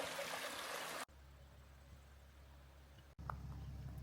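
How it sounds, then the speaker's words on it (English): Paddy's River flows past a riverside campsite: a soft, steady wash of running water, broken by two abrupt cuts, with the later stretch sounding a little fuller. "the Paddy's River flowing right there in front of this campsite"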